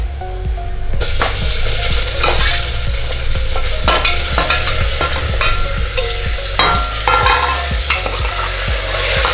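Chicken fries loudly in a pan with browned onions, giving a steady, close sizzle broken by repeated stirring scrapes and clanks, with no talking.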